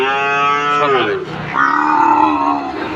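Young Sahiwal bull calves on a farm give two loud, close moos in succession, one falling and one sustained, with no speech.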